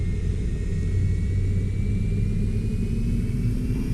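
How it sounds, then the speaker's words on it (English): MD80 jet engines spooling up in a flight simulator game, a loud, steady low rumble with a thin rising whine above it, continuous throughout and with no talk. "Hear those engines spooling up there."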